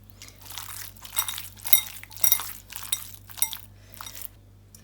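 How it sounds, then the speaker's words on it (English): Prawn wonton filling being stirred with corn flour in a bowl, giving a run of soft clinks and scraping crunches of utensil against the bowl in uneven strokes over a low steady hum. "a tablespoon of corn flour, and then we just mix that all together"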